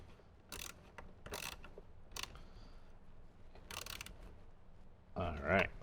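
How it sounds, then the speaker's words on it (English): Ratcheting tool work on speaker mounting bolts inside a Jeep JL, several short bursts of clicks close and quiet, followed by a louder thump as the tightening finishes. "When tightening these bolts, you want to be careful that you don't hit your windshield"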